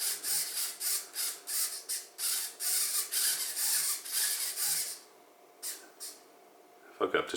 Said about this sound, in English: hopefully you can hear the servo moving.